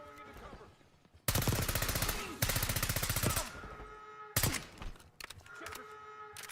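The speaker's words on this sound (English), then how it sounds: "Just shoot them all, Phil." Gunfire in a shooter video game comes as long rapid automatic bursts, loud and close, broken by short pauses, with a final burst and single shots trailing off.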